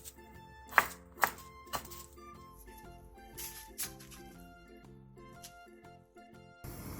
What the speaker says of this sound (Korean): 묵은지를 쫑쫑 썰어 한 줌 준비해주세요